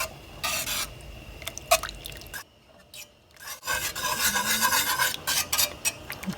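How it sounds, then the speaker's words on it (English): A spoon stirs maple blueberry jam in a pot as it heats toward a full boil, making a continuous close rasping scrape against the pot, broken by one brief quiet pause before the scraping resumes. "I'm going to just keep mixing and waiting for this to come up to a full boil."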